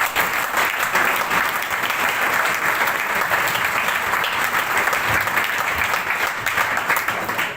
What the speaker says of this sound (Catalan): El president només aplaudeix segons què, ja ho veig.